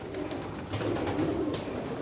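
Kamgar pigeons with sindoori eyelids coo in soft, low, rolling murmurs close by, a steady throaty burbling that swells and fades over continuous faint background noise, with no talking.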